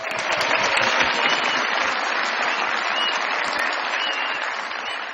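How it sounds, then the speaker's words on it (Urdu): A studio audience on a comedy talk show breaks into sustained applause to welcome a guest, dense and loud clapping holding steady for several seconds before easing slightly. "بہت ساری تالیوں میں ویلکم کیجیے گا"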